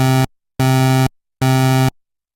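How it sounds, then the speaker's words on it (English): Three identical synthesizer notes with a pulse-wave tone, eight voices stacked from two oscillators, each held about half a second with short silent gaps, loud and buzzy, no talk. "So the sound is even bigger when I play a note, having 8 voices in total"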